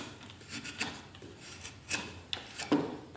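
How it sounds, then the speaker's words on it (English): A 1095 steel knife with an etched hamon cuts into wood in a handful of short, quiet scraping strokes spaced irregularly. "cutting into some wood."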